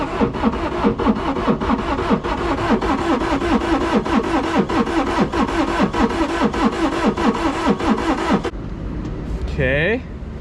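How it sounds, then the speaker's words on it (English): An auction-bought side-by-side utility vehicle is cranked over, its starter giving a fast, rhythmic chugging for about eight seconds before cutting off. A few quieter mechanical sounds follow. Voices speak over the cranking. "I guess we crank it over again."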